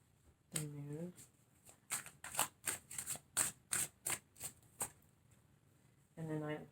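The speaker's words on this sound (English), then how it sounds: "Let me get a couple more cards here." Tarot cards being shuffled by hand, a rapid run of crisp riffling bursts falling into a steady rhythm, close and clear, with a brief hum of a voice before and after.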